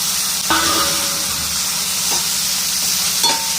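Tomatoes, green chilli and curry leaves fry in a hot pan with a steady close sizzle, broken by a few sharp clinks of a spoon stirring, and no talk.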